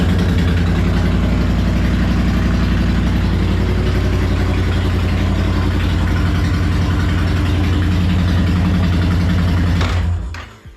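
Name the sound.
motorcycle engine idling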